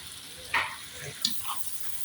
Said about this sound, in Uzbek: Juda chiroyli bo'lib qovurilyapti.